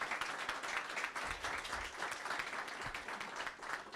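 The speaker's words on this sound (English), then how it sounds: "I think we should applaud that." Audience applause fills a laboratory opening ceremony, a steady wash of many hands clapping at moderate volume for the whole stretch, with no voices over it.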